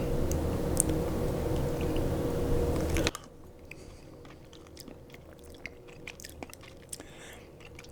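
A person tastes homemade pizza sauce with close, wet mouth sounds and soft chewing, heard after a louder stretch of steady background noise that cuts off sharply.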